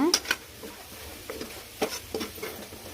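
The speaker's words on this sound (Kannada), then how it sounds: "ಇದನ್ನು ಚೆನ್ನಾಗಿ ಮಿಕ್ಸ್ ಮಾಡ್ಕೊಳೋಣ" A spoon stirring pumpkin greens and egg palya with grated coconut in a pan, scattered scraping taps and soft rustles close by over a faint low hum.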